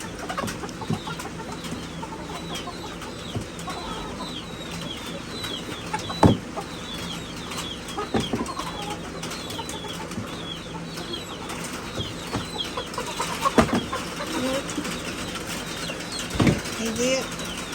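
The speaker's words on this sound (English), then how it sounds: "There's a pile of chickens." Chickens crowded into a food storage room during hurricane preparations cluck and flap their wings, with scattered short calls and wing bursts over a steady background, while people talk nearby.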